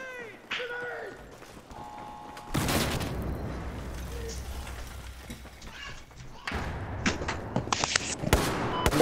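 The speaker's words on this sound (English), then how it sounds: "Get down and throw the grenade!" A grenade blast and gunfire in the shooter Battlefield 4: a loud broadband burst erupts, followed by sustained rumbling combat noise with scattered sharp shots and impacts, with faint talk in the early moments.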